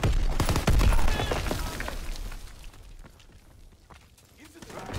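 PPSh-41 submachine gun fire in a WW2 shooter game, a dense rattling burst with explosions and battle noise up close, fading into busy background combat as a voice talks over it.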